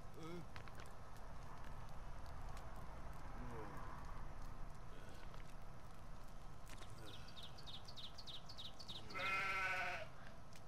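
Sheep in Stubbs the Zombie bleating, several short bleats late in the clip over a steady noisy game background with faint talk.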